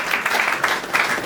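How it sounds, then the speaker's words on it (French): A church congregation applauds for Jesus during a service, a dense, steady burst of many hands clapping at moderate volume, heard briefly and without speech. "Acclamons pour Jésus."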